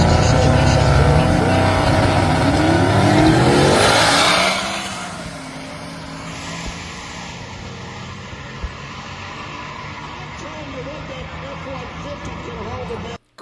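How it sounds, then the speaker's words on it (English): A brand new mid-engine Corvette special edition drag racing roars loudly with rising engine pitch for about four seconds, then drops away as someone talks over fainter background noise. "one of these brand new mid-engine Corvettes"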